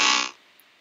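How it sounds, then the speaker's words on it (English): A short, loud, flat electronic buzz, a 2D iPhone game's game-over sound, sounds once and cuts off after a third of a second, leaving near silence. "every time your hero hits the block, it gives us a game over"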